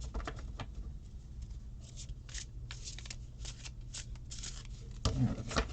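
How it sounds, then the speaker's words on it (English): Rosebud Tarot cards shuffled by hand, a soft papery riffling and sliding texture that runs steadily through the clip, with a brief louder clack near the end. "One more shuffle."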